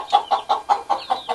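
A Shamo-mix hen tending eight chicks clucks in a quick, regular series of about seven short, close clucks, with a faint higher chick peep near the end.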